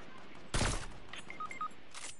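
A single loud gunshot cracks in a Fortnite match, followed by faint electronic pings and a softer later burst, with little else around it.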